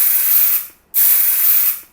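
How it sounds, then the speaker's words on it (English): Two long bursts of Batiste dry shampoo sprayed from an aerosol can onto curly hair, a loud close hiss with a short pause between them, no talking. "You can just spray it."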